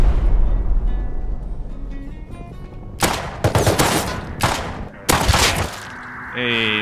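Gunfire in the survival game Rust, several sharp loud pistol shots and short bursts in quick succession mid-clip, ringing close over a rumbling background.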